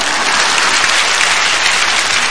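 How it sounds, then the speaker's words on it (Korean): An audience in a church claps in a loud, dense, sustained burst of applause that carries on evenly from start to finish without a break. "한 번 더 박수"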